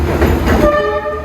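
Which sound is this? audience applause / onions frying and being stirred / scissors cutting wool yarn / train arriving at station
train arriving at station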